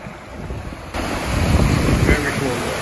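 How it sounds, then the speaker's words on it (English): Strong wind beside the Icefield Parkway in the Alberta Rockies buffets the microphone with a loud, low rumbling roar that swells partway through, steady gusting with no other clear sounds. "So windy here, you can't even hear what I'm saying."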